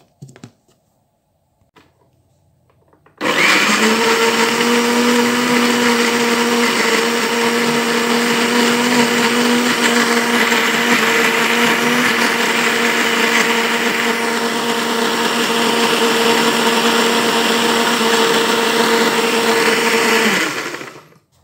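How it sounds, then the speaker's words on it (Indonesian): A blender whirs loudly and steadily for about eighteen seconds after a brief quiet start, then cuts off, blending beef with a little oil. "Sekarang kita masukkan di blender."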